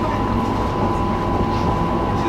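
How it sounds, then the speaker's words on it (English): An Elizabeth line train heading to Paddington gives a loud, steady rail rumble with a constant low hum and a faint whine, heard close from on board throughout. "This is the train to Paddington."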